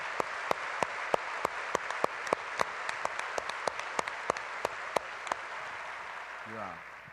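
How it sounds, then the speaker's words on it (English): Scattered audience applause at an annual conference general session honoring award winners, a thin crowd wash punctuated by sharp, regular claps, then fading toward the end as a brief low sound intrudes. "Please join us in giving them a round of applause."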